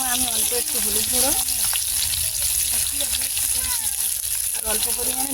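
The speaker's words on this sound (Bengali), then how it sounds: "আর অল্প পরিমাণে নুন দিয়ে এটাকে ভেজে নেব।" Potatoes fry in oil with turmeric and salt, giving a steady, close sizzle throughout while someone talks over it.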